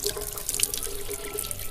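Water is poured and splashed over the face and beard during washing, a steady close splashing and trickling with no talk.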